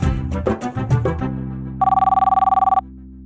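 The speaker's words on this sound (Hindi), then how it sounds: "घंटी जा रही है।" A telephone rings with a steady electronic trill of rapid repeated pulses lasting about a second, loud and clear, following a short burst of speech.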